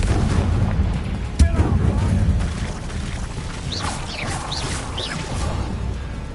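A Confringo blasting spell in the video game Hogwarts Legacy lands with a single sharp boom, followed by crackling, whistling magical effects, amid combat noise and voices.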